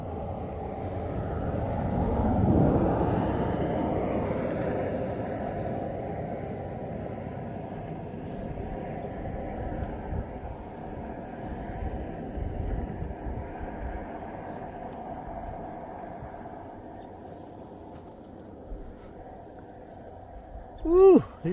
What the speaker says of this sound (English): You can hear the cars whizzing past.